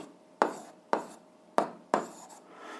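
Writing on paper while working an eighth-grade algebra problem: four sharp scratchy strokes at roughly even intervals, close and fairly quiet, with no voices.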